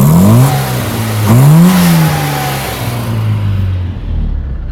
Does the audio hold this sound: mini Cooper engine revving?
yes